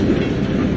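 A runaway freight train rolls past in a film scene, giving a dense, continuous low rumble of heavy wheels on track, loud and steady throughout the short moment.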